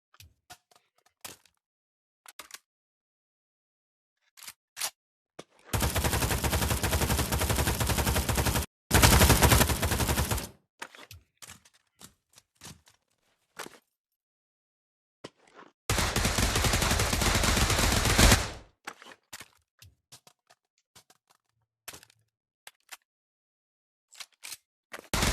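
Gunfire on a firing range in the Pavlov VR game: scattered single shots between two long bursts of sustained automatic fire, loud and close, with no voices.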